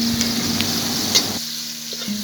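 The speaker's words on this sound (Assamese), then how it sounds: "তেলখিনিত মই তেজপাত, আদা, নহৰু, পিঁয়াজ গোটেইখিনি দি ভাজি লৈছোঁ" Bay leaf, ginger, garlic and onion frying in hot oil for a duck curry, a steady close sizzle with stirring scrapes; the sizzle drops back midway as the pan is stirred, with no talking.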